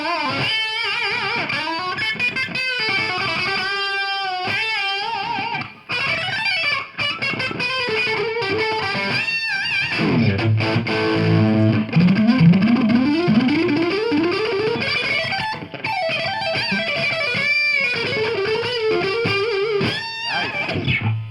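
A cheap electric guitar, under $200, played through heavy distortion, with crunchy chords, sustained notes and a rising lead run, loud and up close.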